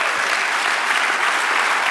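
A church congregation breaks into steady, dense applause during a Spanish-language sermon, loud and continuous throughout the short stretch with no voices over it.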